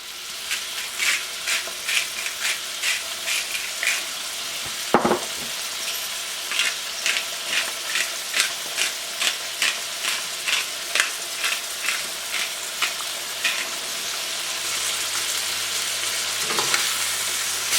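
Chicken pieces sear in a hot pan with a steady, dense sizzle, punctuated by regular soft pops and a couple of sharper clinks, with no talking.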